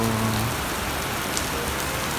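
Heavy New Year rain in the UAE pours in a dense, continuous hiss of drops striking surfaces, close and loud, with a faint low hum at the very start.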